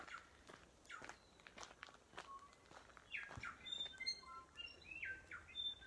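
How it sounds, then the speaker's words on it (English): Bellbirds sing near Ackland Falls: faint, clear, bell-like whistles and chirps, mostly in the second half. They carry over close footsteps crunching steadily along a trail. "I think those are bellbirds"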